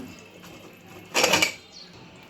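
A cooking pot lid comes off a pot of biryani with a brief metallic clatter and scrape near the middle, close by, amid a quiet kitchen background.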